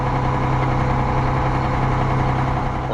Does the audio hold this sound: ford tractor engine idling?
yes